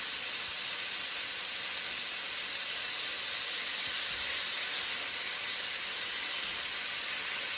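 Steak fajita meat fries in a pan on a stovetop turned up high, giving a steady, close, even hiss and sizzle with no talking.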